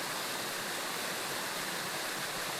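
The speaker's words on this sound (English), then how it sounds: "that water comes from the Joyfud Mill pumping station" Water gushing from a pumping station outflow, a loud, steady broadband rush like a waterfall, continuous and close with no voices.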